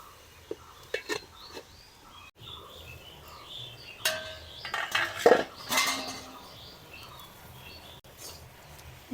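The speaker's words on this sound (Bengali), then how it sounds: "এখন কিছুটা সময় ঢাকা দিয়ে দিব।" A lid clatters onto a pot of Bengali vegetarian cabbage with fried potato and a little sugar, giving a few sharp metallic clinks and knocks in the middle of an otherwise quiet kitchen.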